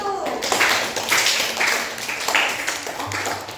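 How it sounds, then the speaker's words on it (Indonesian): Classroom applause for a student group, a burst of clapping from many hands with rhythmic claps, moderately loud and close, with some voices mixed in. "Kita beri aplaus untuk kelompok 1."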